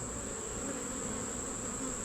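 Honeybees hum in a thick, continuous buzz on a hive frame, steady and close throughout, with no pauses or voices.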